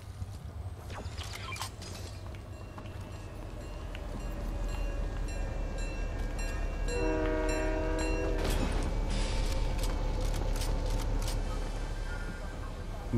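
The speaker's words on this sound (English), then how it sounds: "The train's coming." A train arrives in the Fortnite video game, rumbling loudly under a sustained multi-tone horn blast partway through, with a brief crash near the end and faint voices in the mix.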